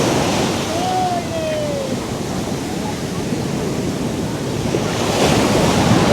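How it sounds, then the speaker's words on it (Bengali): Large ocean waves break on Puri beach on the Bay of Bengal with a loud, continuous surf roar and rumbling wash that swells near the end, accompanied by wind buffeting the microphone. "খুব বড় বড় ঢেউ হচ্ছে,"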